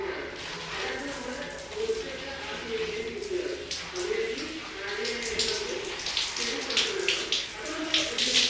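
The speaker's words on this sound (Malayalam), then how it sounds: "നമുക്കപ്പോൾ ഹെയർ വാഷ് ചെയ്യാം." Hair being rinsed under running water, a continuous splashing flow with soft spattering, while a voice talks quietly underneath.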